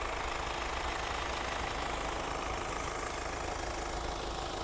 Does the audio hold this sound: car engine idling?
yes